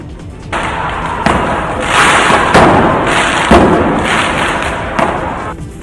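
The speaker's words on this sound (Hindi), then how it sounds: "उन्होंने सड़क पर पटाखे छोड़ दिए।" Firecrackers are set off on a road by protesters, with loud repeated bangs and thumps over a dense, hissing crowd din that fills the whole stretch.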